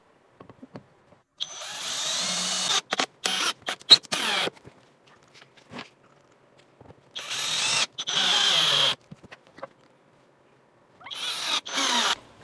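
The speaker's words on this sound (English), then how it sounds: "We're going to put 3 3-inch screws, 1 at each side," A power drill drives 3-inch screws into the wooden corners of a large planter box, three close, whining bursts of several seconds each separated by quiet gaps and small clicks and handling knocks.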